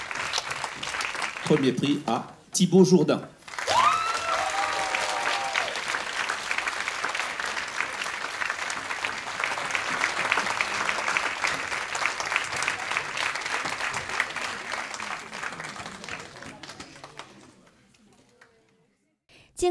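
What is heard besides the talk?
audience applause for prize winner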